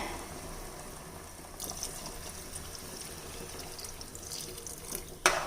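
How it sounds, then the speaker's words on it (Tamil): Water runs and splashes steadily into a cooking pot of rice, a continuous close pour with a brief louder splash near the end. "நாலு டம்ளர் அளவுக்கு தண்ணி விடுறேன்"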